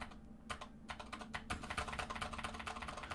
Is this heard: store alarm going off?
no